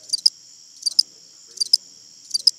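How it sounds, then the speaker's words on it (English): Crickets chirp in short pulsing trills repeating at a steady pace, clear and high-pitched against a silent background. "I remember looking in the audience and it was just like crickets."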